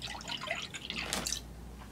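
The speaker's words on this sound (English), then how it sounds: "let's hit the almond breeze in there" Almond Breeze almond milk pours over Cap'n Crunch's Peanut Butter Crunch cereal in a bowl, a brief close splashing trickle swelling midway then tapering off, with no talk.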